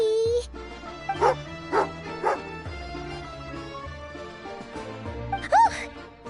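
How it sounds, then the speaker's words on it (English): Tagarin, an angry dog in Genshin Impact's Snezhnaya questing, lets out several sharp barks and yips over a steady music bed, with a final louder bark near the end. "angry doggy"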